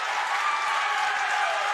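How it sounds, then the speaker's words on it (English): Crowd at a high school boys basketball game applauding and cheering steadily, a broad even wash of clapping and noise with no pauses. "And as you can see, the crowd is loving it."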